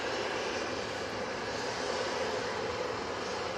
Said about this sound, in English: EasyJet A320 to Rhodes